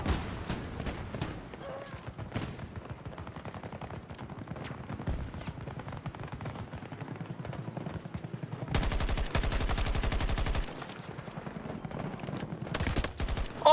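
Rapid gunfire rattles through a Battlefield video game match, dense bursts of automatic fire with a louder close burst midway, mixed with voices talking over the action.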